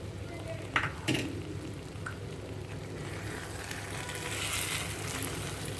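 Brinjal pickle cooks in separated oil as crushed jaggery melts into it, a faint, steady sizzle with a couple of light knocks from stirring early on.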